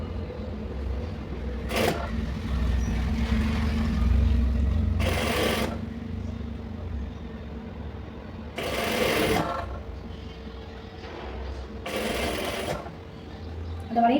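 A sewing machine stitches patchwork fabric for a simple beginner design, its motor holding a steady low hum with short bursts of louder rattling and rustling every few seconds. It sounds close, with no clear talk over it.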